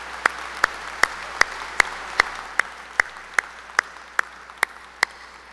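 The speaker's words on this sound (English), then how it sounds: "Please join me in a round of applause for the Board of Education." Audience at the 2015 FHS graduation applauds the Board of Education, heard as a soft diffuse wash of clapping under a regular series of sharp, evenly spaced clicks.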